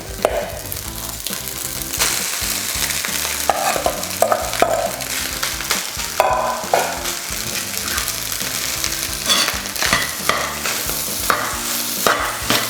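Leftover cold rice being stir-fried in a wok to make egg fried rice, with steady scraping and tossing of the spatula and a continuous sizzle, loud and close, without speech.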